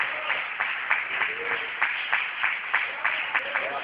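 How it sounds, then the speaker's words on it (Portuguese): A church congregation clapping in steady rhythm during worship, evenly spaced claps about three per second, moderately loud and sustained, with a faint voice underneath. "As palmas podem ser melhores, por glória a Deus."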